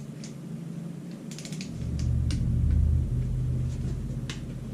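A ratchet tightens engine bolts in a torque sequence on a 2013 Dodge Durango Hemi engine build, giving a low mechanical grinding with scattered light metallic clicks, close and moderately loud.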